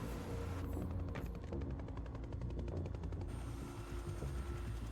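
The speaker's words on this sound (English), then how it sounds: "A chopper." Helicopter in the video game Quantum Break, a steady rhythmic rotor chop mixed with rapid mechanical bursts and rumbling game action, continuous and fairly loud throughout.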